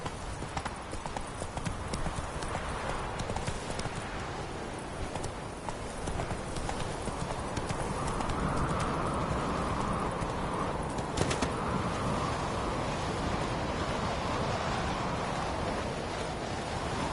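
Horse hooves clip-clop at a steady trot in a PS5 video game, an even run of hoof beats over a bed of ambient game noise, moderately loud throughout.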